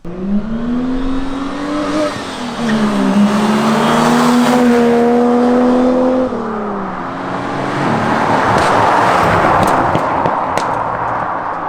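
A twenty-year-old Ford AU Falcon with a limited-slip differential drives on dirt roads, its engine droning loud and close, revving up and easing off, with gravel crunch and tire noise building later.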